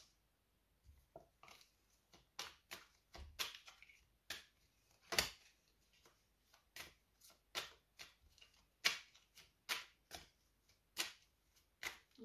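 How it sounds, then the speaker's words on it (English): Playing cards shuffled by hand during a spirit-message reading, giving a run of crisp riffling clicks and snaps in an irregular rhythm, close and moderately quiet with no talking over them. "feel free to ask them now while I shuffle the cards"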